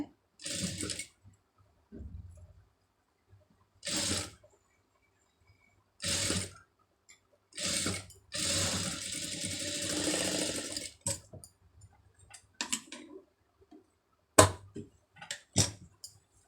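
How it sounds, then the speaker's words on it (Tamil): Two-layer silver lace is stitched onto a sleeve by a sewing machine, heard as several short whirring bursts of stitching separated by pauses, with one longer run in the middle, nearby and quiet in between. "இப்போ இதில் வந்து இன்னொரு தையல் வந்து போட்டுடலாம்"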